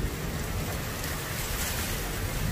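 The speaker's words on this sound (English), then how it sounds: "The rain has come down so hard." Heavy rain pours down hard during a derecho storm with gusting wind, a dense constant hiss of water that stays steady and fairly loud throughout, with no voices.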